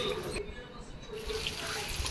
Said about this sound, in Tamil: ஒரு டம்ளர் தண்ணி ஊற்றி